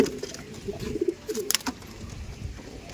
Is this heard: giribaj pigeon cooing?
yes